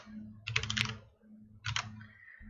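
Computer keyboard being typed on up close: two short bursts of quick keystrokes separated by a pause, over a faint low hum.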